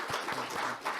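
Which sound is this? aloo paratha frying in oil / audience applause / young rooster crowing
audience applause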